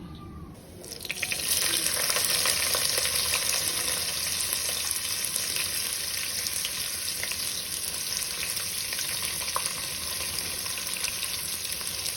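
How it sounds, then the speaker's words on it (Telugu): Cumin, mustard seeds and dried red chillies fry in hot oil, a loud, steady, rushing sizzle that swells after the first second and holds evenly to the end. "కొద్దిగా జీలకర్ర, ఆవాలు, ఎండుమిర్చి వేసి బాగా వేయించుకోవాలి."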